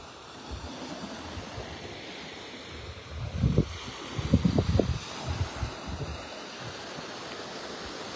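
Gusty wind rushes past the microphone at a beach in North Naples, Florida, with surf rumbling underneath, swelling into stronger blustery bursts through the middle before settling back to a steady roar.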